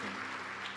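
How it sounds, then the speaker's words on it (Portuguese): A church congregation claps together in a brief, steady burst, soft and diffuse across the room with no voices standing out. "Uma salva de palmas a Jesus."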